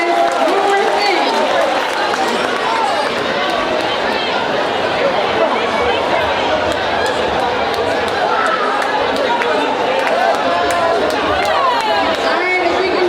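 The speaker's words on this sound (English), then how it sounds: "give yourself a round of applause" A crowd of graduates at an engineering convocation cheers and applauds, a dense, steady roar of clapping mixed with shouts and chatter that fills the whole stretch at high loudness.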